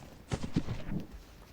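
A horse trotting during a show-jumping session, its hooves giving a few quick, close thudding clip-clop beats in a short burst.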